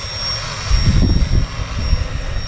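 A variable speed polisher running slowly on a car headlight: a steady close motor whine with a rumbling low buzz that swells and eases over a constant high tone, no talk.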